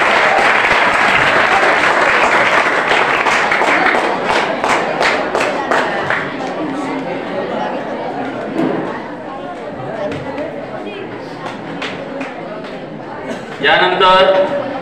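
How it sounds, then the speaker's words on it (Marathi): A school audience at an annual prize distribution ceremony claps loudly and steadily for the students, a dense wash of applause that slowly thins out as a voice begins speaking over it near the end. "या विद्यार्थ्यांसाठी एक जोरात टाळ्या वाजवायच्या आहेत."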